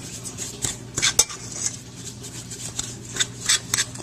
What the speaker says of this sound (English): Just going to mix it a little bit so the sugar gets in there evenly